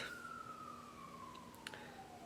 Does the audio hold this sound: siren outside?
yes